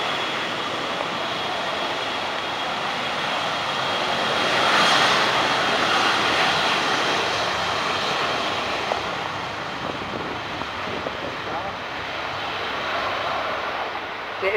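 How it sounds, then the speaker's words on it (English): An AWACS aircraft takes off from the long runway at RAF Coningsby, a sustained roaring engine rumble at middle distance that swells and then slowly eases. "Okay, the AWAC's taking off."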